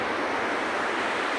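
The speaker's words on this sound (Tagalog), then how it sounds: "Tsaka maririnig mo lang yung tunog ng agos ng dagat, diba?" Sea waves at Binmaley Beach in the early evening make a steady, broad wash of surf with wind buffeting the microphone, continuous and fairly loud with no voices.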